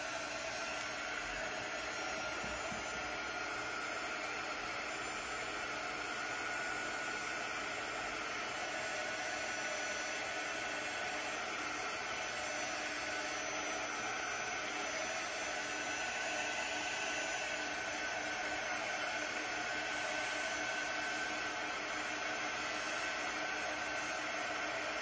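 A handheld dryer blows hot air to dry a craft transfer, giving a steady, close, unbroken whooshing hiss that holds at a constant level throughout.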